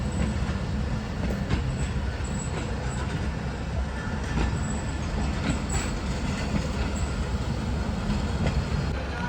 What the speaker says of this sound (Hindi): फाइनली हमारी ट्रेन में मूव होना शुरू